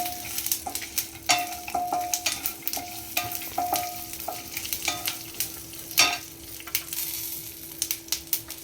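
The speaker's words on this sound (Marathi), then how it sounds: "त्याच्यावरती आपण लगेचच शेंगदाणे घालू, म्हणजे जरा ते तीळ जास्त पसरणार नाही" Peanuts are tossed into sesame seeds frying in a pan for a seasonal chutney. A close, constant sizzle sits under repeated scraping stirs and light clinks against the pan.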